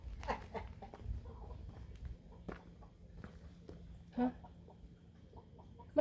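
Chickens cluck in a rural Thai yard, with scattered short clucks and footstep-like scuffs at close to moderate distance, fairly quiet over a low background rumble.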